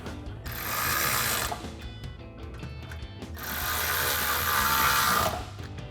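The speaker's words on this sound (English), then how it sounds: "And then we can take a 4mm Allen socket to tighten those down." A power ratchet or driver with a 4mm Allen socket spins bolts into threaded holes while installing a K&N Series 77 cold air intake, giving two long buzzing whirring bursts with a brief pause between, close and loud.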